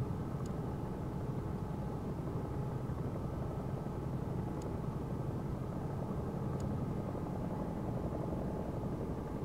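Helicopter engine and rotor noise from a CowanSim 22UT in the X-Plane flight simulator, a steady, continuous drone at moderate level with no talk over it.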